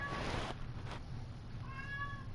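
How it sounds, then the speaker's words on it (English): A house cat meows faintly in the background in a few short, rising cries, heard over a steady low hum and hiss. "My cat's meowing in the background."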